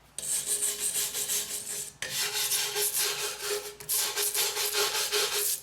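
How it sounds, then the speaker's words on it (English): Flaking rust scraped off the body of a Jeep Wrangler makes a close, rhythmic series of rasping strokes in two or three bursts with short pauses between them, and no one speaks. "I need to get rid of the flaking and the dust and then rinse it off"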